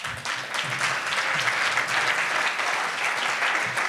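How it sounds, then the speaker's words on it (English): A banquet hall audience at a bar association awards dinner claps steadily, a continuous dense wash of applause from many hands with no break. "imagine how big the applause would have been if I were full blooded"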